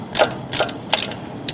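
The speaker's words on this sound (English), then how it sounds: "The socket wrench. Or the combination wrench that's ratcheting." A ratcheting combination wrench loosens a bolt on an engine during a teardown, giving three or four short, close clicking bursts with brief pauses between them.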